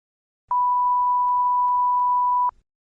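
A single pure electronic beep from a TOEFL speaking test prompt holds one steady tone for about two seconds, clean and loud against silence, signalling the start of the response time.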